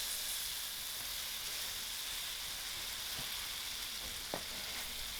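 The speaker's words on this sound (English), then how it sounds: "To my braise, I'm going to firstly add in my potatoes." Potatoes dropped into a pan of sizzling masala braise for chicken mince kebab curry, giving a steady, close frying hiss throughout with a couple of soft clicks of stirring and no talk.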